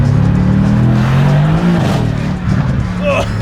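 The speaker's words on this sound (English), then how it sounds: "exhaust sounds insane. Yeah, it pops like mad." A V6 MR2 with a ported manifold and new injectors rumbles loudly and revs with a deep, throaty, popping exhaust note, with people talking over it.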